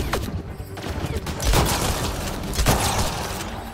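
Gunfire in the video game Mass Effect: Andromeda rattles in rapid volleys with a couple of heavier booming shots, loud and continuous.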